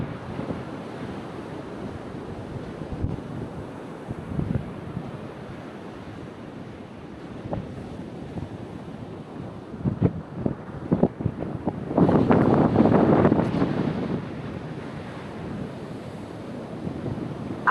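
Ocean surf and gusty wind buffet the microphone on an Outer Banks, North Carolina beach beside a threatened house, with a continuous low rumble of waves and a louder surge of crashing water near the end.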